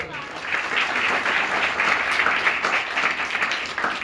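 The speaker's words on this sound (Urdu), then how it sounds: "زوردار تالیاں بجائیں" Listeners at a Christmas sermon break into loud, dense applause, a continuous wash of clapping that holds steady for several seconds with voices faintly mixed in.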